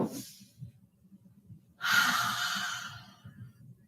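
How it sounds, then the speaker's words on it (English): A long, deep breath in a yoga class: a soft airy inhale, a pause, then a longer whooshing exhale, close and quiet over low background murmur. "Deep breath."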